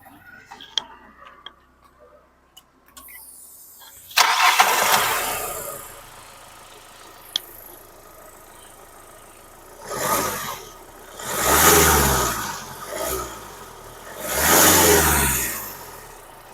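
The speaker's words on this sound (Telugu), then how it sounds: "ఒకసారి ఇంజిన్ స్టార్ట్ చేసి ఇంజిన్ కండిషన్ ఎలా ఉందన్నది మీకు వీడియోలో చూపిస్తాను" A used Hyundai Creta's engine cranks into life after a few quiet clicks, then runs with a steady idle broken by several swelling revs, loud and close.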